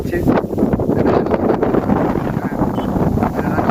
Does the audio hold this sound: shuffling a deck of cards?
no